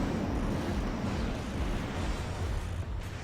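Continuous roaring rumble of a missile barrage exploding in Armored Core 3, loud and broadband with overlapping blasts blending into one steady wash.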